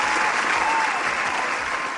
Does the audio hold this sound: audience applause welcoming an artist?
yes